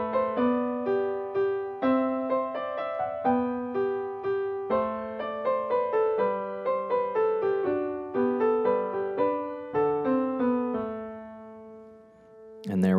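Solo piano plays Part 1 of Minuet in G by Christian Petzold, a light classical piece in a steady three-beat rhythm with clear single-note melody over a simple bass line, close and alone, ending on a final chord.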